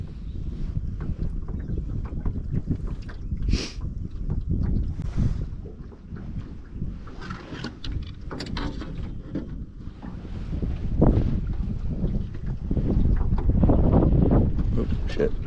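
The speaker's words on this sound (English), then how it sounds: "That wind is something else, yo." Wind gusting across a small lake while trolling for trout from a boat, a steady rushing roar with buffeting on the microphone and faint water movement, with someone talking at times.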